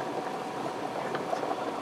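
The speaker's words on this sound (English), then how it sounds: "And I have some linguine over here on the side boiling." A pot of water boiling linguine at a rolling boil, a dense steady bubbling and hissing with occasional louder pops, heard close.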